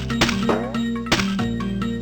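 A weapon striking a big armored turtle in a video game gives a few light metallic tinks, repeated at irregular intervals over steady game music and tones.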